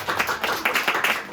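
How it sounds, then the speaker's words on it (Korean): An audience at a school's tenth-anniversary lecture gives a short burst of irregular hand clapping to welcome two speakers, close and moderately loud. "우리 박수로 크게 환영해 주시면"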